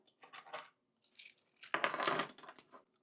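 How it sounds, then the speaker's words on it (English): A set of everyday-carry keys jingles and clinks in short bursts, bright metallic rattles close to the mic separated by brief silences. "I carry a set of keys."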